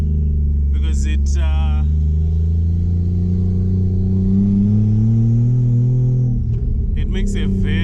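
A Toyota Mark II JZX100 engine revving through the gears, heard as a loud, close, low droning rumble whose pitch rises steadily, then drops at a shift, with brief bursts of speech over it.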